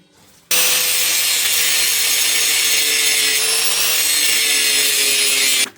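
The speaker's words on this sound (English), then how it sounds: "Let's grind them rivets down." An angle grinder grinds down rivets on an old vehicle. It starts abruptly and runs as a loud, steady high-pitched whine and rasp for several seconds, close and uninterrupted, then cuts off at the end.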